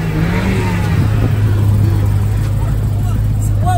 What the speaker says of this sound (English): Yeah, rev it.